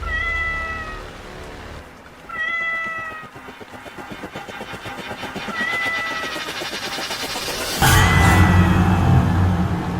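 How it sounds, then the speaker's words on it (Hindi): A cat meows three times in separate drawn-out calls, clear and fairly close, over a low rumbling background that swells into a louder engine-like hum near the end. "उन्हें बिल्ली की आवाज सुनाई देने लगी।"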